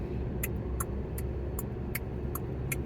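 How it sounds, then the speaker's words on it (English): Evenly spaced ticking of a car turn signal, about seven clicks, crisp and close over a low steady engine hum. "the turn signal noise is a noise that occurs when you're getting ready to turn"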